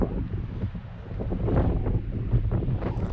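Strong wind buffets the microphone high on a hilltop, rumbling in uneven low gusts that swell and ease without any talking.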